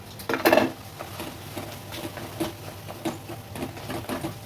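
Grated paneer tipped into a pan of fried masala of tomato, ginger and chilli: one short, close clatter and rustle as it lands, then faint scraping and low sizzling.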